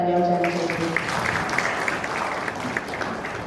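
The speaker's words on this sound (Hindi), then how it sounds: "सर के लिए एक बार जोरदार तालियां हो जानी चाहिए।" Applause breaks out at a gathering in Jalgaon for the president of the district bullion jewellers' association. A voice speaks briefly at the start, then scattered, moderately loud clapping carries on and gradually thins.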